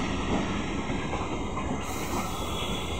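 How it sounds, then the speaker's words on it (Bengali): A train rolls through Hooghly Ghat station, a loud, steady close rumble of wheels and carriages with faint rail squeal, continuous throughout and without voices. "এখন হুগলিঘাট দিয়ে ট্রেন যাচ্ছে"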